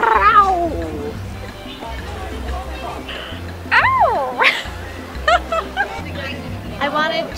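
A person imitates a cougar with a growl and purr, voiced vocal sounds standing out amid a lively crowd of talk and laughter at a charity event in Clearwater.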